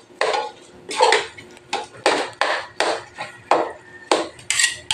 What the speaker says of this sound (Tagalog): Halo-haloin mo lang siya ng haluin yan.